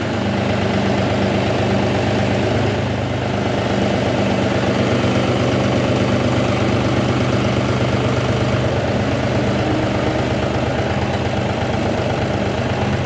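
A tractor engine idles steadily at close range, a low rumbling drone with a faint knocking pulse, unchanging for the whole stretch.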